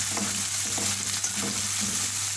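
Two medium tomatoes fry with onions in a pan while cooking chicken seekh kabab biryani. A constant close sizzle runs throughout, with several soft rhythmic scrapes of stirring and no talking.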